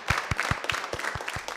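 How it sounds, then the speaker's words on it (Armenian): Audience applause for Arsen Grigoryan on the Armenian New Year show Ners Ari: a brief burst of sharp, evenly spaced claps, fairly close and steady, with no talking. "ուզում եմ ծափահարենք Արսենին"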